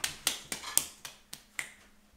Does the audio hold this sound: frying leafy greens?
no